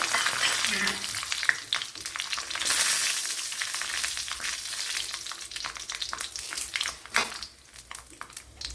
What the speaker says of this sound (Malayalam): ഒരു ടേബിൾ സ്പൂൺ വെളിച്ചെണ്ണ ഒഴിച്ചു കൊടുത്തിട്ടുണ്ട് അതിലേക്ക് കടുക് ഇട്ട് കൊടുത്തിട്ടുണ്ട് ഇതിലേക്ക് കുറച്ച് പച്ചമുളക് ഇട്ട് കൊടുക്കുക